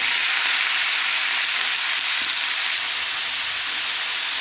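Dal dropped into a hot tempering with chillies for a cabbage stir-fry gives a loud, steady, even sizzle that holds without a break and has no voices over it.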